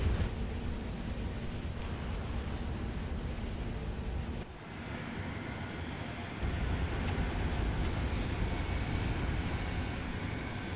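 Sea Meteor F3 jet engine in War Thunder heard from cockpit view, a constant broadband roar with a brief dip in the middle, steady and moderately loud.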